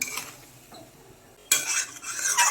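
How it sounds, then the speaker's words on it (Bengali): Spice paste with cumin powder and a splash of water being stirred in a pan for a rohu fish curry with potato and pointed gourd, with a spoon scraping the metal and a soft sizzle that swells louder midway. "দিয়ে মশলাটাকে ভালো করে একটু কষিয়ে নেব"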